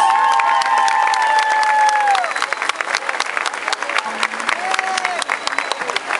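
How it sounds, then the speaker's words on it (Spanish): A studio audience applauds loudly to welcome a radio announcer, with steady dense clapping and some cheering, mixed with whistle-like tones and voices. "Fuerte el aplauso, señores."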